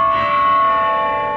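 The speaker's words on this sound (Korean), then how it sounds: "이렇게 운 좋게 정각을 알리는 종소리가 들었네요." A Barcelona church bell tolls the hour, its loud, sustained ringing tone holding steady and fading only slightly, close and alone with no talk.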